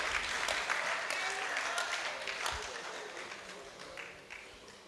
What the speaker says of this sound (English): So please clap for them as they take their leave.